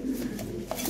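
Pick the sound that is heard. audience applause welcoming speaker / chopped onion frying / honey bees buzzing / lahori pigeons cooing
lahori pigeons cooing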